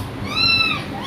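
Cats meow in a short, fairly loud cry at close range during a scuffle among three cats. It rises and falls as one drawn-out yowl, with no talking.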